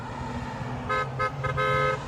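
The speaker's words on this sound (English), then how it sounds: "all these people that are honking" Car horns honking at a roadside political rally, several toots over steady traffic rumble, moderately loud and slightly distant.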